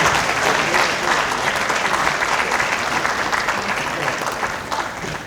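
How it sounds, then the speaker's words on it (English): Loud, sustained applause from an audience at a public address event, dense clapping that holds steady for several seconds before easing slightly at the end. "Let's give Brother Bismillah another round of applause"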